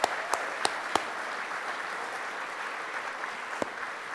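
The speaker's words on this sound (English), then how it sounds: "So let's give all the students a massive round of applause for that" At a Royal Television Society regional awards ceremony, an audience gives student award winners steady, even applause, with a few sharp, close claps standing out early on.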